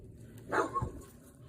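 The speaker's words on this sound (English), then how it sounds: "That's the neighbor's dogs." A neighbor's dogs give a brief bark or two in the distance, a short burst rising over a quiet outdoor garden background.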